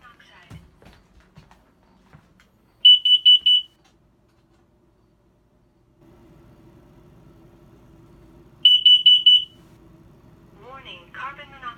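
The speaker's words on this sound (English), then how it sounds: "Warning, carbon monoxide." A carbon monoxide alarm sounds two bursts of rapid, shrill beeps about six seconds apart, with its own recorded spoken warning between them in an otherwise quiet room.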